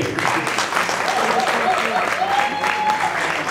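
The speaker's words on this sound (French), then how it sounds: "On applaudit s'il vous plaît." An audience at a concert of Mandinka music and slam poetry applauds, with dense, steady clapping filling the space throughout and some voices faintly mixed in.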